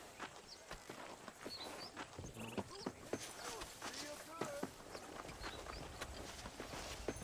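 Horse hooves in Red Dead Redemption clop in a quick, uneven rhythm on the ground, soft and close, with faint voices mixed underneath.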